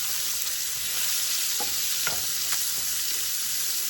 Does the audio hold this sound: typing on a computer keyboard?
no